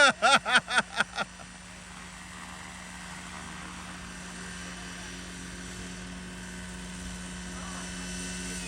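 Roban Bell 412 RC helicopter in flight, a steady whirring rotor and motor drone that builds slightly, preceded by a quick burst of rhythmic chopping pulses; people talk over it.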